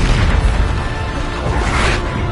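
The Bombarda explosion spell from the video game Hogwarts Legacy bursts as a loud, dense boom with a rumbling low end that carries through the clip, with no voices.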